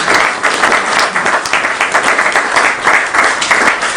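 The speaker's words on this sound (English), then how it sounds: "Let's have a round of applause." An audience at a forestry forum claps for a panel, a loud, dense round of applause that holds steady from start to finish with no pause.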